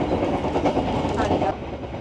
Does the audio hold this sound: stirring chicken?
no